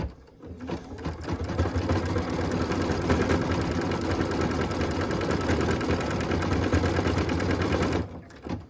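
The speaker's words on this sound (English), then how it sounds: "So what we're stitching now is those cute holly berries on the stamp" An embroidery sewing machine stitches holly berries in light red thread on a Christmas stamp ornament, a steady, loud, fast mechanical whir and needle rattle running continuously for several seconds before stopping.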